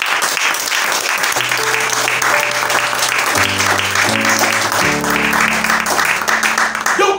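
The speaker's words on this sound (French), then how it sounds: "est-ce que quelqu'un peut acclamer l'amour?" A church congregation applauds and cheers in a steady, dense roar, with organ or keyboard chords sustained underneath throughout.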